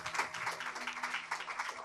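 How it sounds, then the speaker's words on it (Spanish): A church congregation applauds, a steady wash of many hands clapping at moderate volume throughout, with no voices standing out. "Un aplauso al Señor, iglesia."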